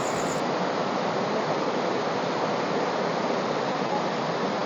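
Nawidwid Falls, a waterfall with a thin, scattered flow rather than a solid sheet, roars in a steady broadband wash of falling water that stays even and close throughout, with no voices.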